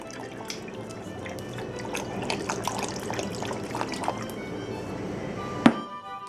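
Worcestershire sauce pours into a bowl in soft, close dribbles and light splashes, fairly quiet, ending with a small knock.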